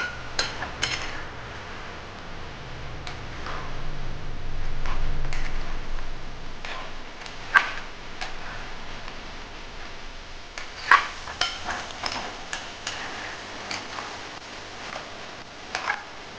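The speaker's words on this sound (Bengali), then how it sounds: "ভালো করে নেড়ে নামিয়ে নেব।" A spoon clinks and scrapes against a pan while broccoli and potato curry is stirred, producing sharp, irregular metallic taps close by with soft shuffling between them and no talk.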